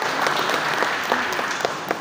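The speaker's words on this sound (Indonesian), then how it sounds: "Tepuk tangan Bapak Ibu." Audience applause at a zero-bullying declaration event in Kubu, Kubu Raya, following the introduction of a regional education official; steady, dense clapping from a crowd fills the whole two seconds at fairly close range, with no speech over it.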